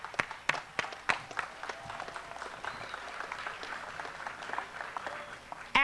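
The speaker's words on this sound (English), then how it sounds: "Actually, that's all of our people that's doing that applauding." Audience applause at a school solar panel unveiling in New Orleans, a fairly faint, scattered patter of hand claps with some louder individual claps throughout.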